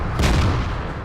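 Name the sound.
tank cannon firing in video game World of Tanks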